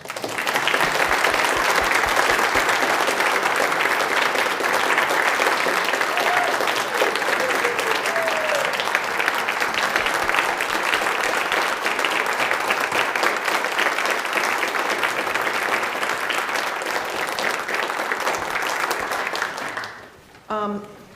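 Sustained applause from a church congregation at an annual parish meeting, honoring a volunteer of 30 years; dense, steady clapping for about twenty seconds, then trailing off abruptly near the end.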